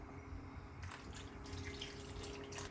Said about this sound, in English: We add some water.